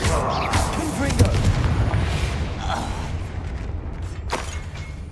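A Confringo fire spell in the Hogwarts Legacy video game bursts into a heavy, rumbling explosion with a broad roar of game noise that fades over a few seconds.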